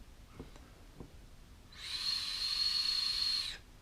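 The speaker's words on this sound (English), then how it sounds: "It's quite a strange tank. It whistles one way more than the other." A Mutank vape tank whistles through its airflow as air is drawn in, a close, high, steady tone lasting about two seconds after a few faint clicks, with no voices.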